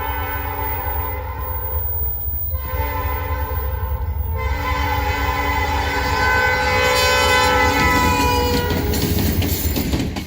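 A LAPO freight train, running from Lawrence to Portland, passing in New Hampshire or Maine, a loud rumbling roll with clattering wheels and a sustained horn blast that builds as it nears.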